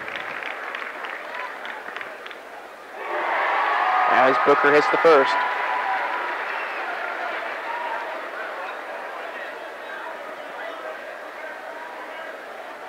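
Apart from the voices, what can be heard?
standing ovation from basketball crowd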